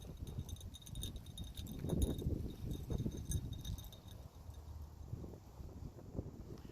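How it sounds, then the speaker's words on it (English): Cold wind gusting outdoors in a cemetery, low rumbling buffets across the microphone rising and falling unevenly, with faint jingling and rustling underneath. "Sorry guys if you hear the wind and everything."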